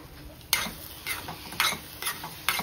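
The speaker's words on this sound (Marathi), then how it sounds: "वेलची टाकून छान परतून घेते मी" A spoon stirs cardamom powder into bottle gourd halwa in a metal pan, with several sharp scraping knocks against the pan at irregular intervals, close and clear, under a faint sizzle.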